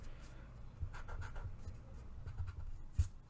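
Pencil eraser rubbing on drawing paper, soft close scrubbing strokes in short bursts with a low rumble underneath and no talk.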